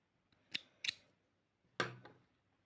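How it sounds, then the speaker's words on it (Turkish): Scissors snip excess thread while making Turkish needle lace (iğne oyası): two quick close cuts, then a louder third snip after a short pause, with no one talking. "Şuradan fazla ipimi de kesip"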